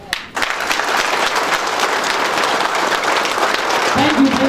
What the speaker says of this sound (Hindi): तो खुशी की ताली कैसे बजनी चाहिए,